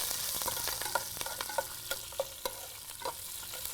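Green chilies frying in a pan, a soft background sizzle broken by sharp crackling pops and stirring scrapes at an uneven rhythm, close and alone.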